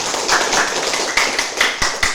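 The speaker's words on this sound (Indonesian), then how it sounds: "Tepuk tangan dulu untuk Kodensia" Classroom applause from a group of students during a school teaching session, a dense patter of claps with a few sharper bursts, fairly loud and steady over about two seconds.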